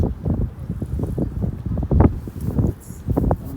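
Strong outdoor wind buffets the microphone in uneven gusts on a cold, windy day at a US Open women's pairs event, with no voices.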